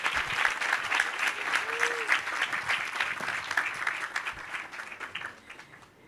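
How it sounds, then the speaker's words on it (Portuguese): Sustained applause from a conference audience at the Agenda Bahia 2022 event, steady dense clapping throughout that fades slightly toward the end, with a brief voice heard partway through. "Mais uma vez, uma calorosa salva de palmas."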